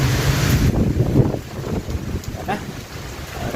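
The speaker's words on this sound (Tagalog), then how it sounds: "Para nang mamatos na hangin" Strong typhoon winds buffet the microphone in Iloilo City during a storm with heavy rain, a loud, steady rushing roar that runs throughout and is heaviest at the start.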